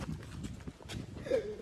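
A horse's hooves clip-clop in a short, uneven series close by, with faint background noise and no clear talk.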